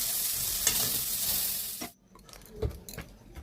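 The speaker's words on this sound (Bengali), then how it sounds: "চিংড়ি মাছগুলো মেখে আমি তেল গরম করে দিয়েছি, ওখানে দিয়ে দিচ্ছি" Marinated shrimp fry in hot oil with a loud, dense sizzle that cuts off sharply partway through, followed by a few light utensil clinks and stirring sounds.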